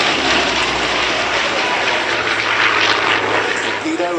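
A sleeve-valve piston aircraft engine at the Duxford Flying Legends air show in 2011 gives a loud, steady broadband roar that holds evenly throughout, with no letup.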